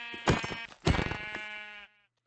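Two close, clear sheep bleats from a Minecraft sheep, each a wavering nasal cry, the second longer and trailing off before a brief silence.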